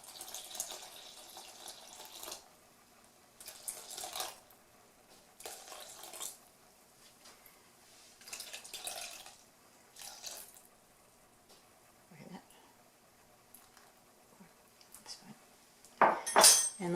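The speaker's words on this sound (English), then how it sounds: "So that's going to be 315 grams of water added to this." Water is poured in soft, quiet bursts into sourdough dough in a bowl while making Tartine-method bread. Several short splashy pours are separated by pauses, ending with a brief clink of a bowl or utensil close by.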